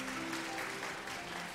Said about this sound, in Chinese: 拍手，感谢主。